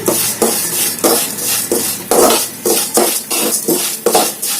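Food fries in a pan while a spoon stirs it in steady, rhythmic strokes, giving loud, repeated scraping and clattering against the metal over a light sizzle.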